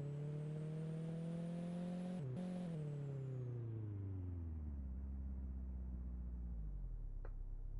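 A BMW in a driving school video game passes with a strong engine tone that holds steady, then drops in pitch as the car moves away and the drone settles low.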